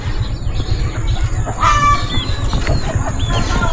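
Mestiza-type fighting rooster making clucks and short calls at a farmyard in La Union, with other chicken sounds and a steady low rumble underneath, fairly loud and close.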